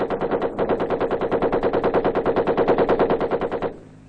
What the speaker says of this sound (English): It's dispelled just as firmly by the occasional chatter of machine guns.